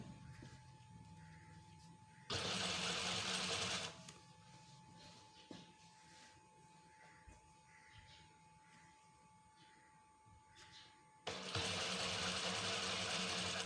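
A sewing machine stitches a qamiz in two loud, fast, even whirring bursts, a short one early and another near the end, with quiet handling sounds between.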